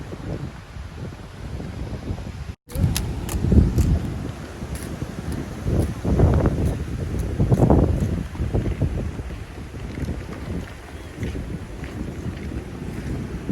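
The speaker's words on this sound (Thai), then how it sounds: "ลมแรงวันนี้ ขึ้นลมแรง" Strong wind at Cha-am Beach blasts across the microphone in heavy, uneven gusts, a loud continuous rumble that swells and fades, with a brief dropout early on and no talk.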